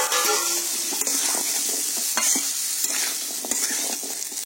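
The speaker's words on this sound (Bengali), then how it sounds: "ডাঁটা আর আলুটা দিয়ে আমি 1 থেকে 2 মিনিট মতো কষে নেব।" Drumstick stalks and fried potato pieces sautéed in a hot pan for a sajne data dish, a steady loud sizzle under repeated scraping stirs of a spatula, with no talking.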